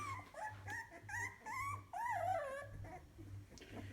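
Newborn puppies whimper and squeal in high, wavering cries, several overlapping close by, with a steady low hum running underneath.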